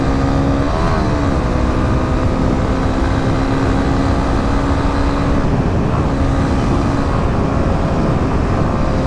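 A Honda CB300R 300cc motorcycle engine runs loud and steady nearby, its pitch shifting slightly as it revs with a downshift, with no speech.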